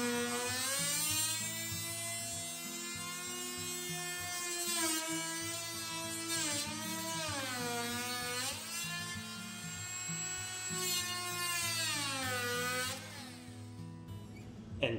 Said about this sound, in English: Cutting the bottom of the notch with the oscillating tool.